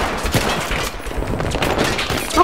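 Pistol fire in Battlefield 3 amid a busy firefight, rapid repeated gunshots and thuds close by, loud and dense without pause.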